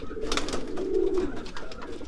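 A newly paired, unnamed racing pigeon gives a close, continuous low cooing rumble with a swelling middle, heard alone without talk.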